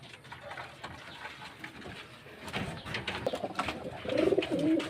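Racing pigeons coo softly near a transport truck, with low, throaty burbling calls that swell and grow louder toward the end over faint background noise.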